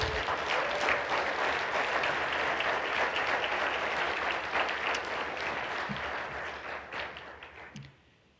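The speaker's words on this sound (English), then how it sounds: "Let's give them all a round of applause." Sustained audience applause for award recipients at a 2022 Jewish community awards evening, a dense, steady clapping from a large crowd that holds for several seconds and then tapers off at the end.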